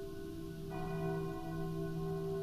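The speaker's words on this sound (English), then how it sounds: "Oh, there's the bell again." A ringing bell, a sustained resonant tone with layered overtones that swells in partway through and holds steady, heard alone without voices.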